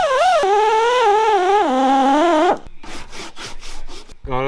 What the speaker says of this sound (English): Just gotta hit it with the eraser wheel a little bit more and get the gooey stuff off.